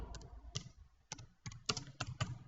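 Quiet typing on a computer keyboard, a sparse run of separate key clicks and short double taps spread irregularly over a couple of seconds, close to the microphone and with no voices.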